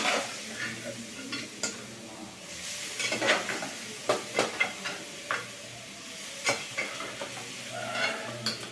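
Cooked goat trotters are sautéed in a kadai, with a soft sizzle under repeated close scrapes and clinks of a spatula against the pan, and no talking.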